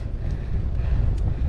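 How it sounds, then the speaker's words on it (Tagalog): Strong wind roars across the microphone in a continuous low rumble high on a ridge road while road biking uphill, with no voices. "Lakas ng hangin dito sa taas."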